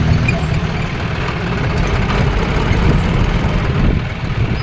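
A JCB and a tractor loading soil run with a continuous low, rumbling engine drone that stays steady and close throughout, with no voices.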